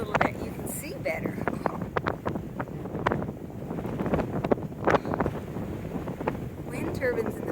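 Outdoor wind on a foggy hillside path in Ireland near wind turbines, buffeting the microphone in constant rough gusts with rumbling bursts, with a person talking now and then.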